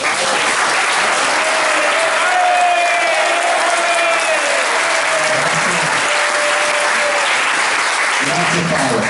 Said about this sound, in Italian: un super applauso alla storia della Lega,